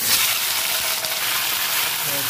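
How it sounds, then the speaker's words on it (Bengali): Potatoes fry in hot oil for a Bengali chicken kosha, giving a steady, loud broadband sizzle that holds evenly throughout with no pauses. "আলুগুলো ভেজে নিচ্ছি তেলের মধ্যে"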